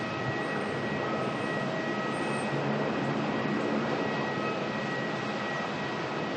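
Retro Roo Qantas plane at Melbourne Airport, a steady broadband jet roar holding constant and loud throughout with no voices.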